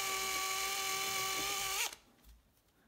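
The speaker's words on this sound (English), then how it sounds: "and just drill very carefully and very slowly." A power drill bores carefully and slowly into a guitar kit body toward the rear electronics cavity, a steady high whine that stops abruptly after about two seconds, leaving quiet.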